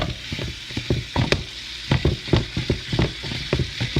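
Ground beef sizzling in a pan while being broken up, a steady fry hiss punctuated by repeated scraping and tapping strokes of a utensil, close and fairly loud, no talk.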